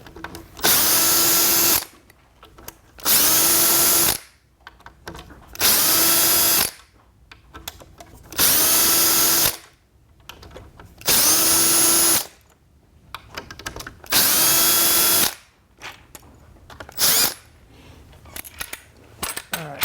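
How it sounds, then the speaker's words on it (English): A power drill whirs in repeated bursts of about two seconds each, removing a propeller, separated by short quiet gaps with faint clicks and handling noises. "I just use a drill to take off the prop just because it's faster"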